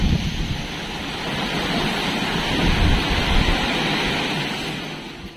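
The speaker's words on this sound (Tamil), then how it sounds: "சரியான காற்று மழை" Strong wind and rain outside a home: a loud, rushing roar that swells and eases over several seconds, with gusts buffeting the microphone.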